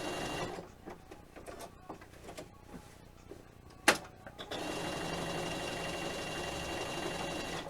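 A sewing machine stitches an appliqué logo in short bursts of rapid whirring, then a clunk, followed by a longer continuous run of steady stitching, close and moderately loud.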